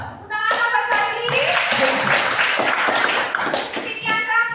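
A classroom of children claps in a quick rhythmic pattern of sharp, close hand claps, with children's voices heard before and after the clapping.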